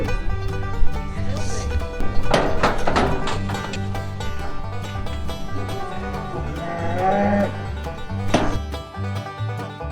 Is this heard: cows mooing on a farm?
yes